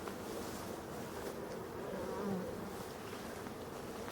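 Honeybees swarm and buzz around their hives, a continuous faint droning hum with no voices, steady from start to finish in an outdoor apiary under pressure from Asian hornets.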